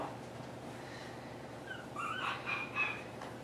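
A puppy downstairs from its littermates whimpers and yips, with thin high whines rising in short bursts over a steady low household background.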